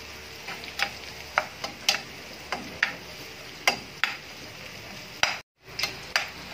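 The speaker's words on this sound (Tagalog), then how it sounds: "May kiwar-kiwar na ginigisang bawang at sibuyas" Garlic and onion sauté in a pan for Bicol express, a steady sizzle with regular sharp scrapes and taps from stirring and a brief silent break near the end.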